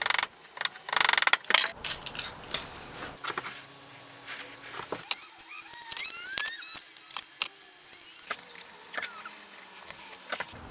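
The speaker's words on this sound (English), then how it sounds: "I'm going around with a chisel to give a slight taper to the bow tie so it'll make for a nice snug fit." A dull chisel paring the edges of a wooden bow tie inlay, with irregular close scraping and clicking strokes and small taps, fairly quiet, no talking.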